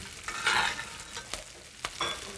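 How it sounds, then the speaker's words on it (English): A steak basted with butter, garlic and thyme in a skillet, heard as close crackling sizzle with spoon scrapes and a few sharp taps against the pan, with no talking. "And then I'm going to baste this baby."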